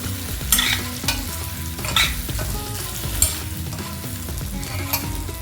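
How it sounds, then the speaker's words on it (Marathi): Eggplants stir-fry in hot oil, a steady close sizzle broken by repeated scraping stirs of a spatula against the pan, with no talking. "ही वांगी मी आता परतून घेते. तेलामध्ये हे 5 मिनिटं थोडं परतून घ्या तुम्ही."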